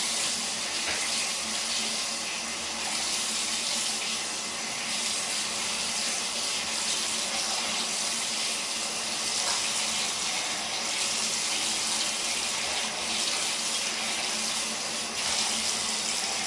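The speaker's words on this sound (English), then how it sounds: "So I am just running myself a bath with the invisible bubble bath" Water gushes steadily from a tap into a bathtub as a bubble bath is run, a loud, continuous rushing splash close by with no pauses and no speech.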